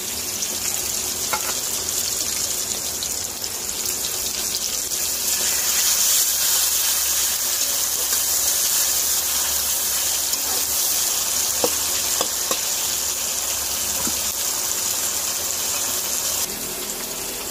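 Onion and garlic frying in a pan at the start of a home-style chicken curry, a continuous close sizzle with occasional stirring clinks and scrapes running throughout, no voices over it.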